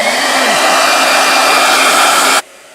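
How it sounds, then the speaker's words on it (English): A handheld hair blow dryer runs at a loud, steady whoosh close by, then cuts off abruptly near the end, with no voices over it. "All right, blow dryer."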